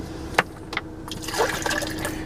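Water poured into a shaker over one scoop of Big Noise pump supplement, a steady close trickle that swells into a fuller splashing fill during the second half.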